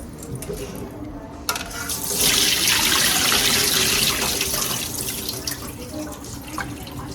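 Tap water runs into a bowl of black rice being rinsed in a kitchen sink, a quiet trickle swelling into a steady rushing pour after the first second and a half, then easing slightly.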